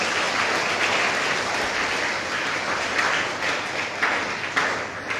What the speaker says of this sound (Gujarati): સૌ પહેલાં તો ચાર બાળ વક્તાઓને અને સંચાલકને આપણે તાળીઓથી